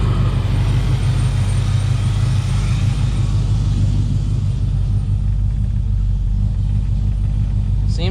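A Plymouth Scamp engine idles steadily after sitting unused for 16 years, a loud, continuous low rumble that runs smooth and even throughout, with no talking over it.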